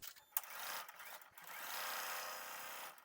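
A sewing machine stitches quilt block pieces together, a quiet mechanical whir that starts, pauses briefly with small clicks and handling noises, then resumes at a steady run.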